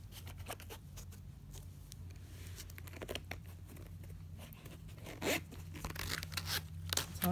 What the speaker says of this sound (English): Let's open the first zip.